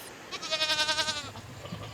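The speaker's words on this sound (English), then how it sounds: "a herd of sheep and goats appear from the mountains, along with their shepherd" Sheep and goats in a herd coming down from the mountains with their shepherd: one close, wavering bleat lasts about a second, then gives way to low rustling.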